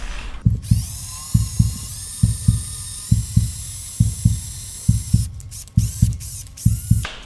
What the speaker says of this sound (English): and then I drill a hole through it